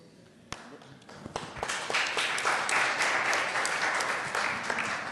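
Audience applause at a panel discussion on collaboration networks, starting with a few scattered claps and swelling into a full, sustained round of clapping from a room of people.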